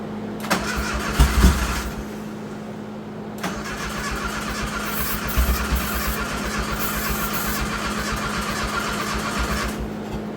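A Dodge Shelby Daytona with its exhaust cut off starts in a garage: a brief crank, then the engine catches and settles into a loud, rough, steady idle with a couple of blips.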